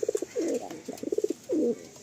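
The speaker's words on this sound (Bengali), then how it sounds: "পায়রাগুলো দেখুন একদম ফ্রেশ হোয়াইট পায়রা" White Madrasi pigeons coo close by, throaty rolling calls repeating in quick bursts with softer chirps between them, loud and with no talk over them.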